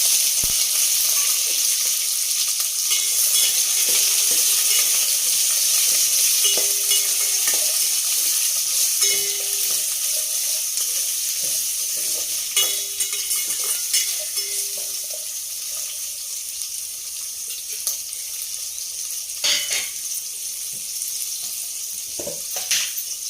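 Chopped onions and green chillies fry in a hot pan for a sambar idli base, a steady broadband sizzle with intermittent stirring clicks and scrapes, no voices.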